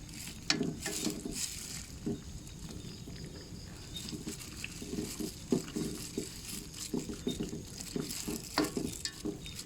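Chaya leaves blanching in a pot of hot water in a home kitchen, with irregular soft bubbling, sloshing and light clinks of utensils stirring, steady and fairly quiet with no talking.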